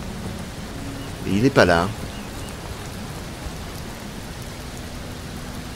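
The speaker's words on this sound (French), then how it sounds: "Il pleut dans le désert." Steady rain falls in the desert in the survival game Mr. Prepper, a constant hiss throughout, with a man's brief line of speech over it near the start.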